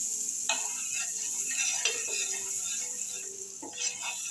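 A paneer hot dog toasts on a dosa griddle, with a soft sizzle under scattered scraping and clinking of a utensil against the pan, fairly quiet and close.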